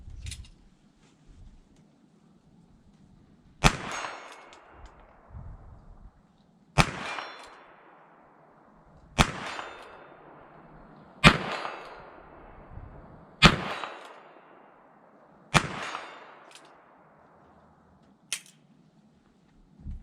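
Sharp .22lr shots from a Ruger Wrangler revolver ring out, each followed by the clang of a bullet striking a steel plate 40 yards away. Six or seven evenly spaced cracks sound outdoors, each with a fading metallic ring.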